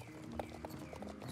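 Horse hooves clip-clopping in the video game Star Stable Online, a quick run of light, close hoof strikes at a moderate pace, fairly quiet.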